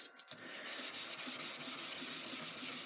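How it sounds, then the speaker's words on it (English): A steel chef knife blade is sanded by hand with dull sandpaper wrapped on a leather stick, producing a steady, close, raspy rubbing with a faint rhythmic stroke pattern and no talk. "I'm going to go with some of the duller sandpaper on my leather stick"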